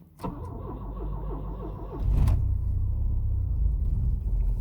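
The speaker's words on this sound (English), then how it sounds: "we can see how well she cold starts, which is always terrible" A Rover 820 car engine cold-starting, its starter motor cranking in a rapid rhythmic whirr for about two seconds before the engine catches with a sharp burst and settles into a loud, deep, steady idle rumble close by.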